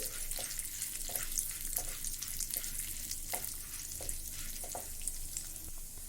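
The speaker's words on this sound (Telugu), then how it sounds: "ఫ్లేమ్ని సిమ్లో పెట్టుకొని వేయించుకోండి." Peanut chutney ingredients roasting in a pan on a low flame, a soft continuous sizzle with gentle periodic stirring scrapes, fairly quiet and close.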